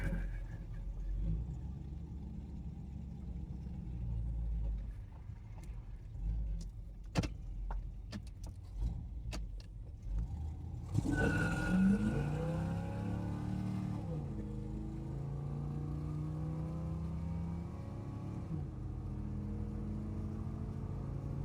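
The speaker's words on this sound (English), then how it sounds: "Truck runs great." A 1963 Chevy C10 pickup with low original mileage: quiet low rumble and a few sharp clicks, then the engine starts and idles with a steady low drone that carries to the end.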